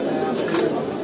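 Pigeons coo at the Jinjira pigeon market, their soft, throaty calls running steadily through a bustling, noisy background.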